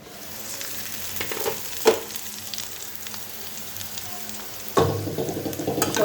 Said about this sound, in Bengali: সজনেটা ভাজা হয়ে গেছে